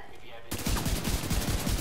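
Rapid automatic gunfire from The Division 2 video game, a steady fusillade of repeated shots that starts abruptly and keeps up loudly to the end.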